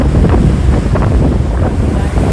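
A moving ship's engine churns up a foaming wake behind it, giving a loud, close, continuous rush of water with wind buffeting the microphone.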